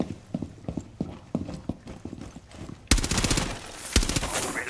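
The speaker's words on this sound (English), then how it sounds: "Look out, they're shooting through this window" In a Rainbow Six Siege match, rapid footsteps tap out a rhythm before a loud burst of close automatic gunfire erupts, sustained rattling shots continuing to the end.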